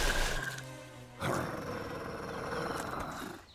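A cartoon wolf gives a loud, drawn-out growling roar that cuts off, followed by a second sustained snarl and a rumbling tail.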